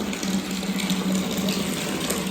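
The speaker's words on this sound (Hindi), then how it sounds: "पानी माशाल्लाह से बहुत प्रेशर से आ रहा है" Tap water gushes out at high pressure in a steady, loud, continuous stream, close by and with no talking over it.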